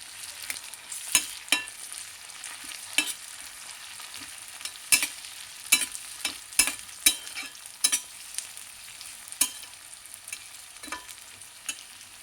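Chopped tomatoes with turmeric fry in a pan, a steady soft sizzle broken by repeated sharp scrapes of a spoon stirring, close and clear with no talking.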